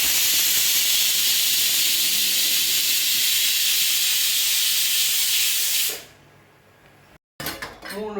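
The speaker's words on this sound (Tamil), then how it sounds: "ப்ரெஷர் விட்டாச்சு, 4 விசில் விட்டாச்சு." A pressure cooker releases a loud, steady hiss of steam after several whistles while lentils and vegetables cook. The hiss continues for about six seconds, then cuts off abruptly and leaves quiet kitchen sounds.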